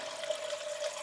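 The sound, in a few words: pouring water into a glass for a protein shake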